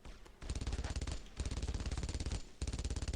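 Rapid, loud machine gun fire in the World War II video game Brothers in Arms: Road to Hill 30, sounding in three sustained bursts split by short pauses, with no talking over it.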